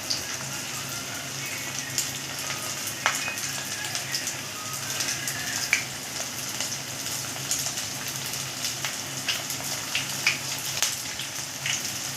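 Rice pakodi made from leftover cooked rice frying in hot oil, a steady dense sizzle and crackle with scattered sharp pops throughout, close and continuous.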